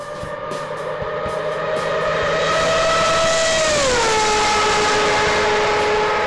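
A whining, engine-like tone with strong harmonics swells and then drops in pitch, a drum convolved with a race car sound using the Airwindows LRConvolve plugin, blending car and resonant drum.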